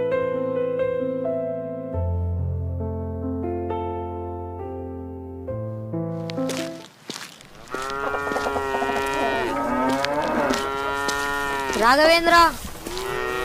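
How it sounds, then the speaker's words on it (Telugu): A calf on a village farm lets out loud, drawn-out moos in the second half, each with a wavering rise and fall. Sustained musical tones precede it, and a voice briefly speaks. "దూడపిల్ల పారిపోతుంది, పట్టుకురాపా."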